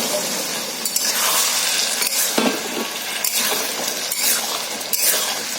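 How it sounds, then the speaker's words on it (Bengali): Chickpeas tipped into a pan of cooked spice paste for a vegetarian chickpea curry with no onion or garlic, giving a steady loud sizzle with scraping stir strokes and a few clinks of utensil on metal. "তো এবার আমরা এটার মধ্যে ছোলাটা দিয়ে দেব।"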